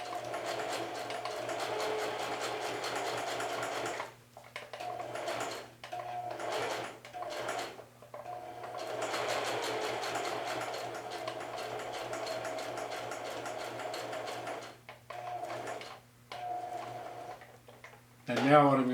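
A sewing machine stitches yokes onto a garment in steady running bursts that stop and start as the fabric is pivoted, close and fairly loud, with a voice talking over part of the run.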